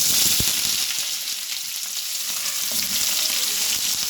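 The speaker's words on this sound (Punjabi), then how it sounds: "ਹੁਣ ਥੋੜਾ ਜਿਹਾ ਪਿਆਜ਼ ਨੂੰ ਆਪਾਂ ਨੇ ਭੁੰਨ ਲੈਣਾ" Onion fries with cumin in a hot pan, a bright, steady close-up sizzle that runs continuously, with a single clack of a utensil early on and faint stirring underneath.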